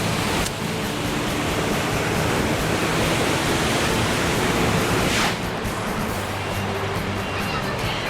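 Waterfall at Lubuk Timah, which is surrounded by marble rocks, producing a dense, steady roar of rushing water that holds constant throughout.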